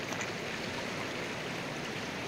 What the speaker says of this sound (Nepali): सानोतिनो खोला त होइन यो पनि, हजुरबालाई बगाइदिएको खोला हो